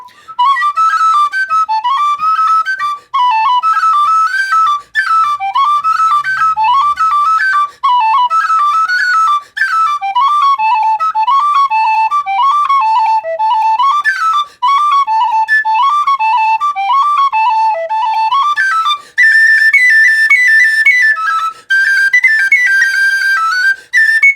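A tin whistle plays a lively, ornamented Irish traditional tune, bright and close, with short breaths breaking the phrases and no voices.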